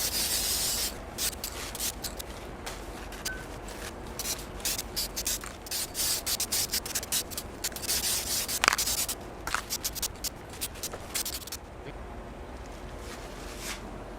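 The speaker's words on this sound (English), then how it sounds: "And now I'm just going to put some sanding sealer on it." Sanding sealer is rubbed onto a Gibson SG guitar neck with a run of close, brisk rubbing and wiping strokes in uneven bursts, pausing near the end.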